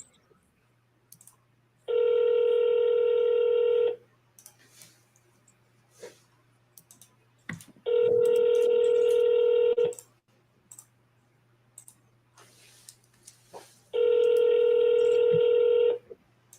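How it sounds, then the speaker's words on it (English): A telephone dialing out for a cold sales call, sounding three long steady DTMF tone bursts of about two seconds each, evenly spaced, over a low constant hum with faint clicks between them. "cold calling is just as simple as just picking the phone up and hitting call"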